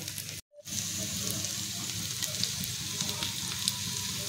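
Vegetable rice cutlets shallow-fry in hot oil until crisp on both sides, giving a continuous close sizzle and crackle with a brief dropout near the start.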